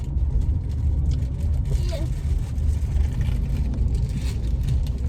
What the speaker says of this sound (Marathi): थोडीशी ट्रॅफिक आहे रस्त्याला